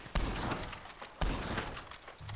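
Gunfire in the Red Dead Redemption 2 Online video game: two sharp, loud shots roughly a second apart, each with a booming low onset and a trailing rumble over continuous game ambience.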